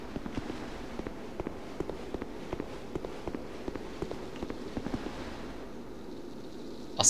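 Spiders' legs scurrying in Dark Souls II, a steady run of soft, quick clicking taps repeating evenly at close range over a low ambient drone.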